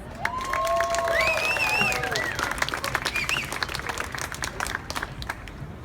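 An audience applauds and cheers to welcome a priest at a St. Patrick's Day event in a New York casino hotel, with sustained clapping and a few whoops and shouts that gradually thin out.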